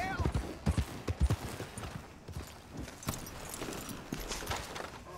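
Horse hooves clip-clopping in the Red Dead Redemption 2 video game, a quick uneven run of thuds mixed with game sounds and someone talking over them.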